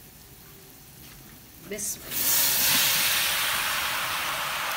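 Macaroni tipped into a pan of hot white sauce over low flame sets off a sudden steady hiss and sizzle that swells loudly and holds, after a brief clatter as it goes in, with a short spoken word.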